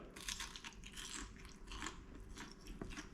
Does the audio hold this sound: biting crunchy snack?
yes